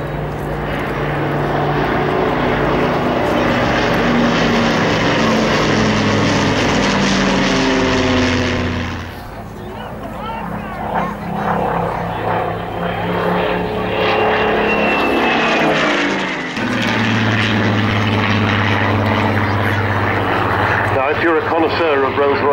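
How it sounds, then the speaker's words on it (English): A Lancaster bomber's four Rolls-Royce Merlins and one Rolls-Royce Griffon engine fly by in trail at an air show, a loud sustained propeller drone that swells and shifts as the aircraft pass, with announcer speech running underneath. "enjoy the combined sound of the four Rolls-Royce Merlins and the one Rolls-Royce Griffin engine as they fly by in trail"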